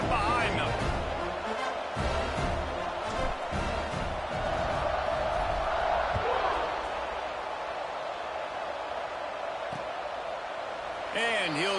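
A college football video game stadium crowd roars steadily throughout at the kickoff, a dense continuous wall of cheering under a commentator's voice.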